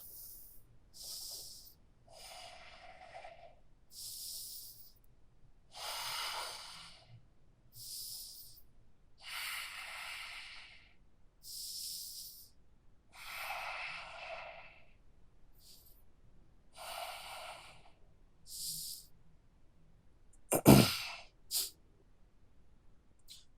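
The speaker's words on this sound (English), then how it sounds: "Strong, deep breaths." Strong, deep breathing during a breath-focused yoga interval workout: slow, regular inhales and exhales, each lasting a second or two, close and fairly soft, ending in a sharper burst of breath.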